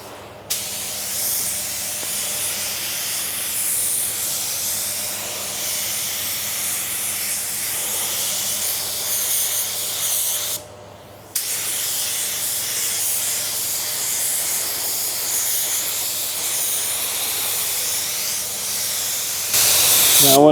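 A spray gun lays another coat of paint onto a car body in a steady, close hiss that runs almost unbroken, with one brief pause near the middle.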